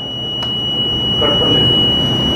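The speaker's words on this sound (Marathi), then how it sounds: "लॉन्ग बीप येत आहे, मशीन क्लिअर होत आहे." An electronic voting machine control unit gives a long, continuous high-pitched beep as it is cleared, steady and loud throughout with a faint room murmur underneath.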